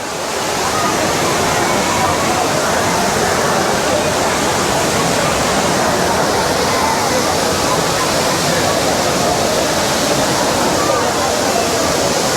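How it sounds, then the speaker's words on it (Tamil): A waterfall in Courtallam pours down the mountain in a constant loud roaring rush of water, steady and unbroken throughout. "அது நடுவில் இந்த அருவி ஓடி வருது"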